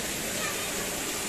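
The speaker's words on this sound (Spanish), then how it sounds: "ya hemos llegado a la otra cascada" A small waterfall in the mountains of the Alpujarra, Spain, gives a steady, dense rush of falling water that fills the clip evenly from start to end with no pauses.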